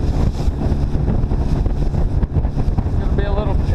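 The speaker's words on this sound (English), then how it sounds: "We're gonna get some windy weather today. It's gonna be a little choppy." Strong wind buffets and roars over water, with low rumbling and constant gusty noise against the microphone.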